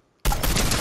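A sudden loud burst of rapid automatic gunfire in the video game Fortnite, breaking out of near silence and continuing densely to the end.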